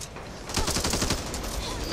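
A dense burst of rapid gunfire in the shooter game Back 4 Blood during a PvP match, fairly loud and continuous for a couple of seconds, with no talk over it.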